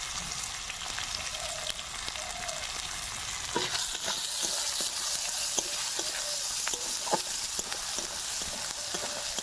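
Chopped onion and green chili fry in a pan, giving a steady sizzle with occasional stirring clicks and taps, close and unbroken, with no talking.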